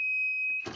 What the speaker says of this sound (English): We should hear that annoying alarm.